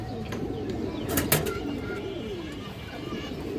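Pigeons in a market pen cooing in soft, repeated low calls, with a brief sharp sound and faint background voices mixed in.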